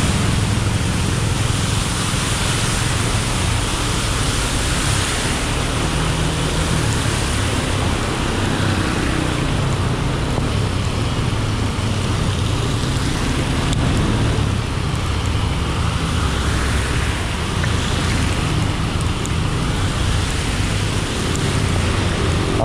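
Heavy rain hisses continuously over a low road rumble, a dense, steady wash of noise with no pauses.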